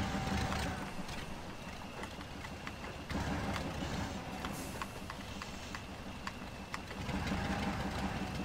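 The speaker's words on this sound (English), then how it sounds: "Grinding gears." Fuel truck in the SpinTires video game, a continuous rumbling engine drone with a constant loud level and faint rattling, grinding undertones throughout, heard alone without talk.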